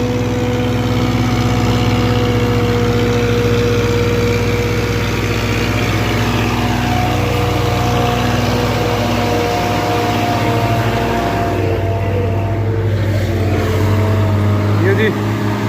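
A tractor engine roars steadily and close on a muddy road after rain in Kashmir, straining as it pulls a loaded truck with a tow chain, a continuous low drone.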